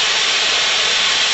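Torch flame heating a copper pipe fitting for sweat soldering, a steady broad roaring hiss held loud and close throughout with no voices.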